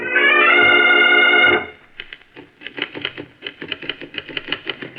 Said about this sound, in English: is seated at a desk, typing